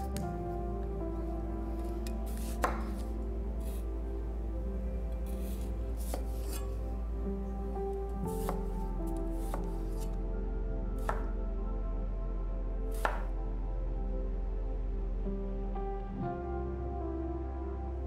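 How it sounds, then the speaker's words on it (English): A kitchen knife chops spring onions and then tomatoes on a board. The cuts come as scattered, sharp taps over a steady background tone. "We'll just chop up some of these ingredients. The spring onions first, tomatoes next."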